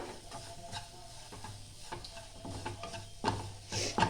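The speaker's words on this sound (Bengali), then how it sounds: "গ্যাসের ফ্লেমটা একদম লো রেখে হালকা আঁচে একটু ভাজতে হবে ময়দাটা" Flour fried in a pan over a low gas flame, with a soft steady sizzle and repeated close scraping and clicking of a spoon stirring it, getting slightly louder toward the end, with no talk.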